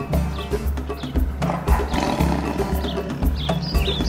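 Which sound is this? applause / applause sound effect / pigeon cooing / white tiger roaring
white tiger roaring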